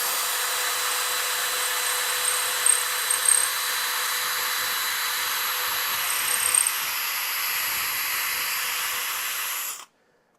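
A cheap, dull drill bit spins against thick steel without biting, giving a steady high grinding whine with faint squeals that runs for about ten seconds before cutting off abruptly.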